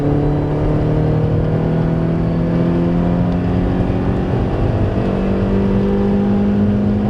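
A car engine runs loud and steady near the listener, its harmonics holding and shifting slightly as it is revved through the mid range, with no one talking.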